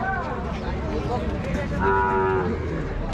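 A cow at a Rajshahi cattle market gives one loud, drawn-out moo up close, over a busy crowd murmur.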